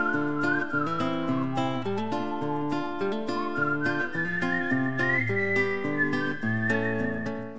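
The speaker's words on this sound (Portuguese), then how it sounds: "tem uma abertura inesquecível daquele cara assobiando" A man whistles a bright, wandering melody over a full musical backing of steady harmony, loud and sustained throughout, as a PS2 video game's opening theme.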